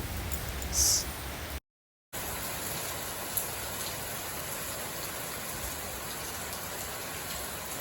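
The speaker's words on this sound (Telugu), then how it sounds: "అనుకోలేదు కదా వర్షం వస్తుంది" Heavy rain in Nellore pouring steadily in a dense, even hiss, briefly cut to silence early on before resuming.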